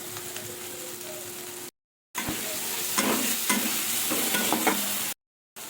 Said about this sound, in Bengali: মশলাটা একটু কষিয়ে দিলাম